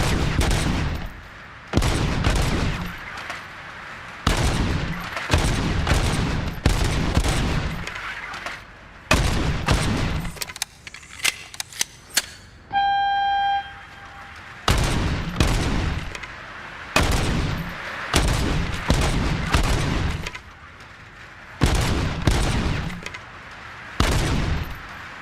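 Gunfire in the RoboCop: Rogue City video game, loud repeated bursts of rapid automatic shots in clusters separated by short gaps, with a brief tonal electronic beep sequence midway.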